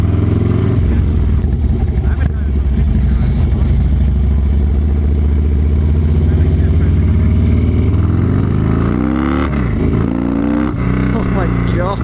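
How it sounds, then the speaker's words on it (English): A 2006 Harley-Davidson Dyna Low motorcycle is ridden up close, its engine rumbling loudly and rising in pitch as it accelerates, with a rider's voice breaking in toward the end. "I'm on Theo's bike right now"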